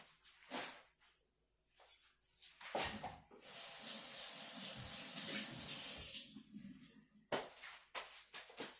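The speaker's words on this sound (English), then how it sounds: "I'm going to go get rid of this and rinse my hands really quick because they're sticky" Tap water runs over sticky hands in a kitchen sink after cutting orange pieces, a steady hiss of about three seconds framed by short splashes and pauses before and after.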